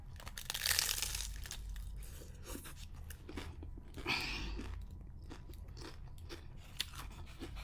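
Crunchy food is bitten and chewed close to the microphone, with a loud crunch near the start and another midway, followed by softer chewing.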